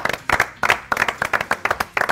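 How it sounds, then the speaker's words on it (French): Lively clapping from a small group in a comedy game-show studio, individual hand claps in uneven bursts close to the microphone, loud and without talk. "On s'applaudit, franchement."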